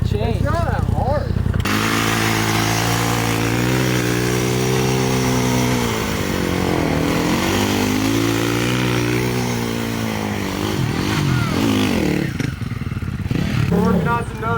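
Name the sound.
dirt bike engine revving during nose wheelies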